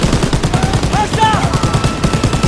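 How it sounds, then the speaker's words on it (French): Rapid gunfire from a World War II shooter game (Call of Duty WW2) during a train assault, bursts repeating steadily over a busy, dense game soundscape with brief whistling tones mid-way. "Continue à tirer!"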